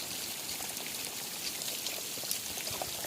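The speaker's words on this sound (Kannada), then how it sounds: "ಈಗ ನೋಡಿ ನೀರು ಹಿಂಗೆ ಹೋಯ್ತಾ ಅದೇ." Water running out through holes punched in a farm pipe, a steady close splashing and trickling patter like light rain on the ground, with no voices.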